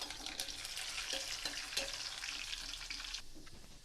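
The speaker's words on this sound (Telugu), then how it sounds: "ఆయిల్ కొద్దిగా హీట్ అయ్యాక వీటన్నిటిని ఆయిల్లోకి వేసుకొని బాగా దోరగా" Spices for tomato rasam tempering sizzle and crackle steadily in hot oil, a loud, continuous close frying hiss with small pops, heard alone without talk.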